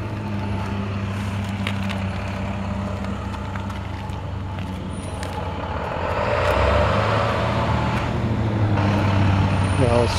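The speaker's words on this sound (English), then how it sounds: "Got a little school bus action going on." A school bus rumbles past near a parked 1955 Chevy 3100 pickup, its low engine drone swelling louder midway through as it goes by, with traffic noise around it.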